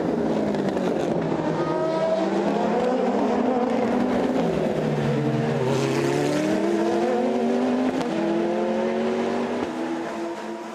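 A GTE race car laps the 24 Hours of Le Mans circuit, its engine note rising and falling through gear changes as it drives continuously and loudly past, with no voices heard.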